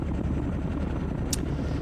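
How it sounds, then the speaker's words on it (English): A military helicopter in the Squad Battles Tour of Duty game gives a loud, steady rotor drone and engine roar, continuous and close, with a brief higher-pitched hiss partway through. "Let's get the chopper down there."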